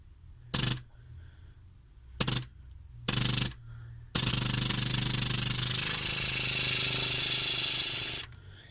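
A 3D-printed HPA airsoft engine fitted in a JG MP5SD fires in short loud bursts, then one long sustained rattling run of roughly four seconds that cuts off abruptly as the air supply runs out.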